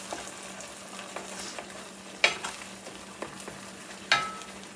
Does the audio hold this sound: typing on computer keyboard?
no